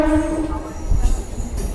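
Katwa–Barddhaman local train pulling into Barddhaman Junction, a loud close rumble with a sustained horn-like tone and clattering wheels.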